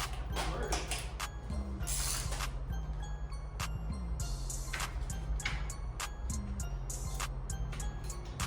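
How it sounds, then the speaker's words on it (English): Ratchet clicking while loosening spark plugs on a Mercedes-Benz engine during a teardown, repeated sharp ticks and short bursts close up over a steady low mechanical hum. "let's go ahead and get these spark plugs out"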